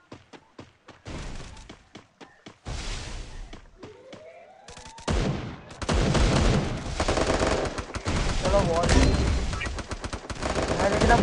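Bursts of gunfire in the Free Fire mobile battle royale game: sharp separate shots at first, then dense sustained automatic fire with game effects, with people talking over it.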